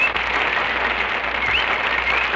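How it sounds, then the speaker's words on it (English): Studio audience applause following an orchestra's performance of a sung number, steady dense clapping filling the whole stretch with no voices on top. "applauded by our audience"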